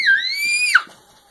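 A young girl lets out one high-pitched, sustained scream while being tickled, close and loud, sliding upward and then dropping sharply before it cuts off.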